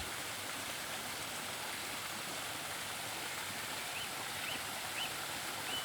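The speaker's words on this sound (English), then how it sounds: "And here we have the waterfall." Pumped water tumbles down a garden waterfall cascade in a constant, moderately quiet rush of splashing, steady from start to finish with no talking.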